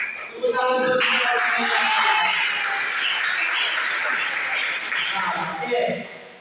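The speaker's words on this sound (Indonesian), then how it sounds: "Tepuk tangan untuk kita." A room of people claps steadily for several seconds at the close of a religious lesson, a loud, dense wash of hands that swells, holds, then tapers off, with a few voices and laughs mixed in.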